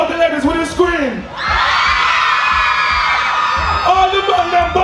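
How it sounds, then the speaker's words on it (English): A Labour Day concert crowd in Antigua in 2013 erupts in a loud, sustained scream led by the women. It follows an MC's amplified voice and lasts a couple of seconds before the voice returns. "All the ladies with a scream."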